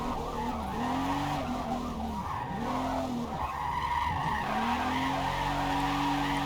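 Car tires squeal and skid in long, wavering sweeps while drifting in the Forza Motorsport racing game, over a steady engine roar and with no talking.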